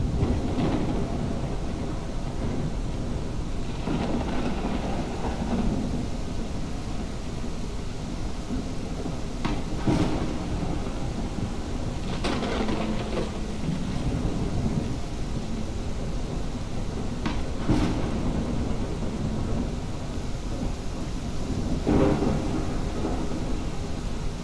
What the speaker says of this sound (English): The storm, the lightning.